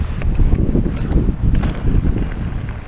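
Strong, extreme wind gusting across a mountain biking trail at Upper Showgirl on Mt. Charleston, Nevada, a loud, steady roar of buffeting gusts close on the microphone.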